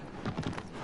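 Hoofbeats of a horse galloping across open ground in Shadow of the Colossus, a short, steady run of clip-clop thuds at moderate loudness with no talking.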